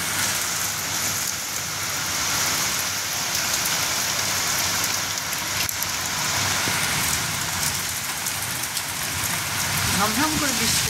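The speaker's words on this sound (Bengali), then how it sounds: "ঝমঝম করে বৃষ্টি উঠলো, বাপরে।" Heavy rain pours down steadily during a Kalbaishakhi evening storm, a dense continuous roar of drops on surfaces close by, with a brief low rumble near the end.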